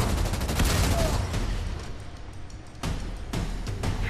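Heavy gunfire from vehicles in Halo Wars 2, a dense continuous barrage of shots over a rumbling battle din, with a fresh loud burst partway through.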